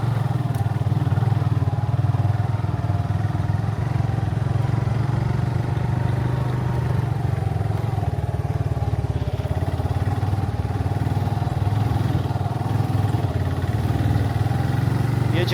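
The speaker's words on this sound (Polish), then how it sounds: "Tam z tyłu jadą na 2 motory, chyba po 2." Police motorcycles ride through the streets of Medellín, their engines droning loud and steady throughout with no clear talk.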